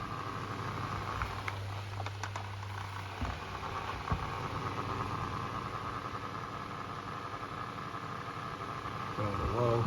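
Holmes HAOF720 desk fan from 2002 running on speed 2, a steady whirring hum with a loose rattle, heard close with a brief voice near the end.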